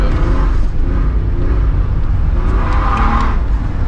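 A BMW 325ti three-cylinder engine revs and drones continuously at close range, its pitch rising and falling in a few surges.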